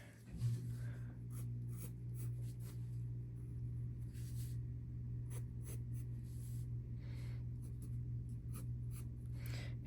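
A pencil sketching a portrait drawing makes faint, intermittent scratchy strokes, short bursts of scraping over a constant low electrical hum, quiet and close.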